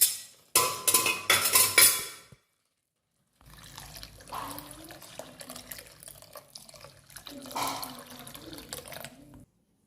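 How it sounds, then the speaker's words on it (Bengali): Water is poured into a pot of jute leaves and red lentils: a loud, splashy pour lasting about two seconds, then a pause and a softer, longer trickling pour heard up close. "এবার আমি এর মধ্যে পরিমাণ মতন জল দিয়ে দেব।"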